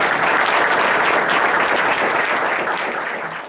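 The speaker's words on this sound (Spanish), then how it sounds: "Pido también para ella un aplauso." Audience applause at a university book launch at UNAM in a lecture setting, steady dense clapping filling the room and tapering slightly toward the end.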